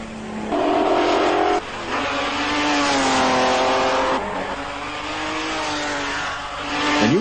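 A 1937 Mercedes race car roars past during a race in Libya, its engine revving through gear changes with rising and falling pitch, loud and continuous over a faint hiss and no talking.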